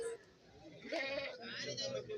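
Goats bleat a few times at a busy outdoor goat market, a large buck among them, with a crowd's voices chattering in the background throughout.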